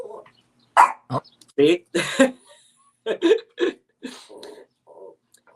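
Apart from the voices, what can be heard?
Pomeranian dog barking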